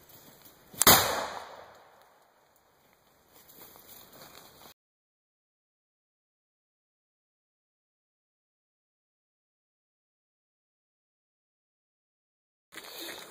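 A single sharp, loud blast from a homemade Liberator12k shotgun is fired outdoors, followed by a quick rumbling decay, then quiet and silence.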